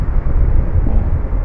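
Loud, steady wind roar from the horror game Ao Oni, a dense low rumble that holds constant throughout with no voices over it.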